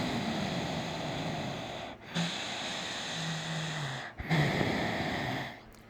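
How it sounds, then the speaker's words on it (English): Slow, heavy breathing close to the microphone, with long drawn inhales and exhales separated by brief pauses. "I breathe like this"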